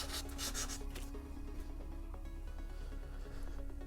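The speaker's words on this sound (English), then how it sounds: "let's go ahead and sand that down" A Boba Fett jet pack part is hand-sanded in quick, faint rasping strokes, the scratchy rubbing continuing steadily for several seconds at close range.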